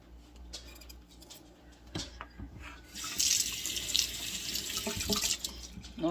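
Tap water runs steadily into a kitchen sink as fresh asparagus is rinsed for a cheesy cream of asparagus and potato soup, the flow growing louder partway through with light clatter, no talking.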